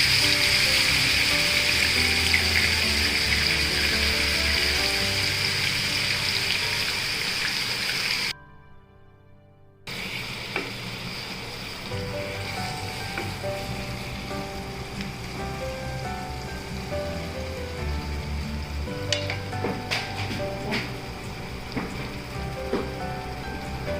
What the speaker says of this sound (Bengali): আর সাথে সাথেই অ্যাড করে দিচ্ছি আমার ম্যারিনেটেড প্রনসটা